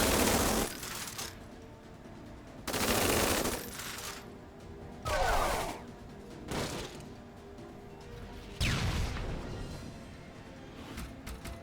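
Riflemen's covering fire in Tiny Metal, four loud bursts of rapid gunfire separated by quieter gaps, each volley lasting about a second and ringing out with a metallic clatter.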